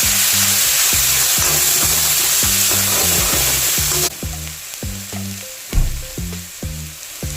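Garlic and green chili fry loudly in hot oil for vada pav, a dense sizzle cut by a quick, regular tapping of a spoon stirring against the pan. The hiss drops later, leaving louder, uneven scrapes.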